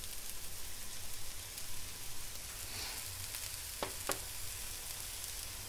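Chopped carrots, capsicum and cabbage frying in a pan for vegetable momo filling, a steady faint sizzle with a couple of sharp stirring clicks near the end.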